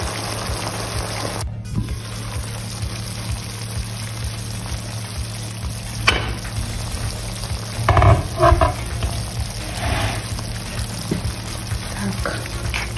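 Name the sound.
kuyrdak, Kazakh meat dish, frying in a pan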